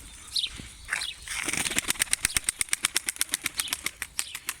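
Pigeons in a loft beating their wings, a quick close run of rhythmic flapping claps that builds after a few faint bird sounds, loud and without talk.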